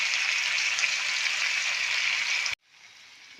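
Potatoes with salt and spices sizzle and fry in a pan for aloo dum with green peas, a loud, steady close hiss that cuts off abruptly, then returns more quietly.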